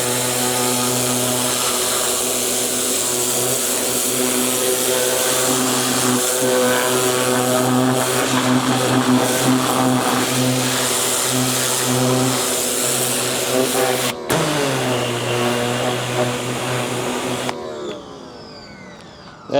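A DeWalt 2600 PSI jobsite pressure washer with a turbo tip sprays vehicle tires, a steady loud motor drone with a continuous hissing water blast that shifts in tone partway through, then the engine note drops and fades near the end.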